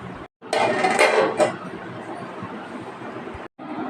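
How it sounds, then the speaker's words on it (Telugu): A metal lid set down onto a cooking pot while an okra and egg curry simmers, giving a short clattering clink over steady kitchen noise and someone talking. "ఇప్పుడు మనం మూత పెట్టేసుకుందాం"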